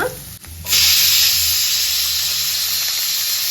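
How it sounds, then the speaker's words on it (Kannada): A pressure cooker in a home kitchen lets out a loud, steady hissing whistle that starts abruptly and continues without a break, alone, with no talking. "ಆ ಕಡೆ ನಮ್ಮ ಕುಕ್ಕರ್ ಕೂಡ ವಿಸಿಲ್ ಬಿಡ್ತಾ ಇದೆ."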